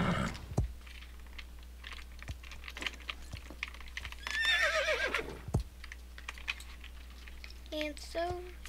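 A horse neighs briefly in the middle, a wavering whinny over a low steady hum, with scattered clicks and taps around it and a couple of short tonal chirps near the end.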